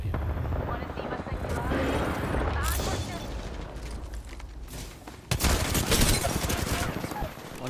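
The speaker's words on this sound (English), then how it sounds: "They're firing on me." Enemy gunfire in the Apex Legends shooter rattles in rapid bursts through a busy firefight, with a sharper loud volley near the end, while a player talks over the action.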